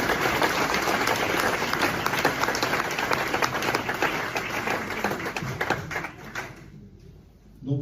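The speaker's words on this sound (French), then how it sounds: "je vous demanderai, chers Colloises et chers Collois, de les applaudir" Residents at the La Colle-sur-Loup New Year's greetings ceremony applaud municipal staff with loud, crisp clapping that thins out and fades near the end before a brief return.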